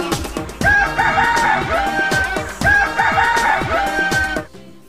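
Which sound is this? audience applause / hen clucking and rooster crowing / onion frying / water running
hen clucking and rooster crowing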